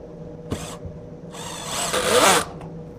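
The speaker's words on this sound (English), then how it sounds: "Just apply the glue to your joint and drive the self-tapping screw." A power drill drives a self-tapping screw into a Kreg pocket-hole joint in wood: a short whir, then a longer rising buzz as the screw seats, close and alone.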